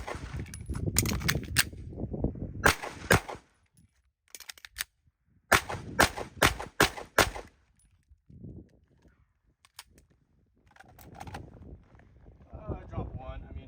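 A Staccato XC pistol fires outdoors in several sharp, loud reports, some spaced and others in quick strings, separated by quiet gaps, with wind rumble and a person talking at times.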